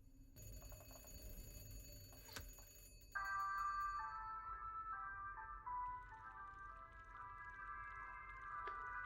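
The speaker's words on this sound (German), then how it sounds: "jetzt gehe ich wieder rüber zu dem anderen Telefon. Ja, es klingelt wieder." A telephone rings inside the puzzle video game The Room Three, giving a faint, repeated bell-like trill over a quiet, humming game ambience that swells partway through, with no talking.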